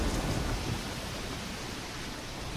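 Steady rain with a low rumble of thunder during a storm in the video game Risen, a dense continuous wash of noise holding even throughout, no voices.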